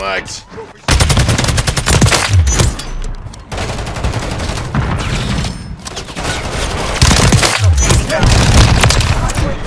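SCAR-L rifle and KRISS Vector gunfire roars in Modern Warfare II's Dark Waters mission as loud, rapid automatic bursts broken by short pauses, close and dominant, with game voices in the mix.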